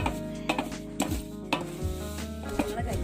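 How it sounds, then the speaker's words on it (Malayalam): Avalose rice powder with sugar is roasted and stirred in a pan, a soft continuous dry rustle and scrape with periodic knocks of the spoon against the pan, close and steady with no voices. "അതേപോലെ നന്നായിട്ട് വറുത്തെടുക്കണം"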